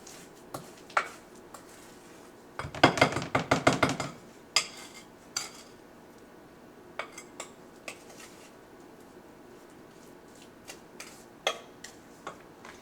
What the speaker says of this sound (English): I kind of smash it on the bowl to mix the butter and the sugar up